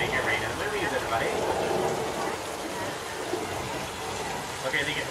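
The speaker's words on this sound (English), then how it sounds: "That's how easy it is to make it rain in the movies" Artificial rain effect on a Universal Studios movie set, a steady wash of falling water under someone talking.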